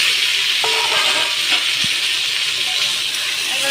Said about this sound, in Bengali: এবার আলু আর মাছের মাথার সাথে আমি ভালো করে মশলাগুলো কষিয়ে নেব।